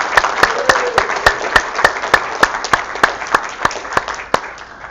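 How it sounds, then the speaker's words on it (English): Enthusiastic audience applause at a hackathon, a steady burst of many hands clapping with sharp repeated claps standing out, loud and sustained for several seconds. "So let's have a round of applause for Xiaohui and sCrypt team."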